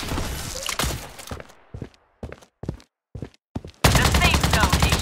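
Gunfire in the mobile shooter Blood Strike rattles loudly at the start. Several short, separate thuds and steps follow with quiet gaps between them, then a sustained, dense burst of rapid shots closes the moment.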